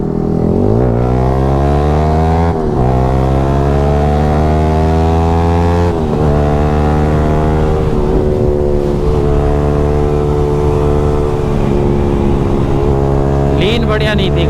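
Sport motorcycles, a Yamaha R15 V4 and a KTM RC 200, ride on the road with a loud, close engine drone that rises in pitch through repeated gear shifts, brief dips marking each change, with wind rush throughout.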